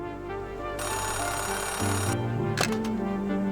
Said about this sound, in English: Payphone ringing in the wild?